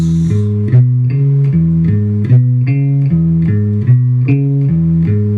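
A guitar chugs out a steady, repeating rock-and-roll bass-note riff in E, bright and close, with no talking.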